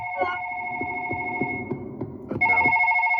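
A telephone rings in the video game Petscop, with a steady electronic double-tone ring that pauses and then resumes louder, over a low rhythmic wiggling noise and soft background hum.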